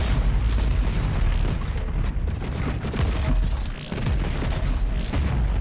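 Sticky bomb blasts from Doom Eternal combat, fighting mancubuses and cultists in a gore-filled level: dense, continuous booming explosions layered with rapid gunfire, loud and close with no pauses.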